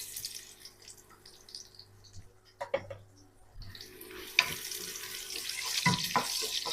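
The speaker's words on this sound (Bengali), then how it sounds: "পেঁয়াজটা লাল লাল করে ভেজে নেব।" Chopped onions with bay leaf, cardamom, cinnamon and cloves fry in hot oil for pulao. After a few pan clinks, a broad sizzling hiss swells and holds close to the stove.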